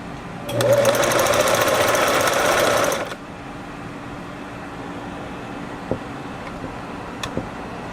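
A Singer 347 sewing machine runs loudly for about two and a half seconds during testing after its tensioner was cleaned, a dense mechanical whir that stops abruptly, leaving faint room noise and a few small knocks.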